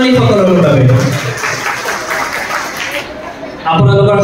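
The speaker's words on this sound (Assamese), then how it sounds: "এবাৰ জোৰে হাত চাপৰি হ'ব লাগে আমাৰ এই কণমানি সকলৰ বাবে।" Audience claps for young preschool girls' welcome dance at a school function, steady dense applause throughout with a brief dip near the end before swelling again, mixed with some crowd murmur.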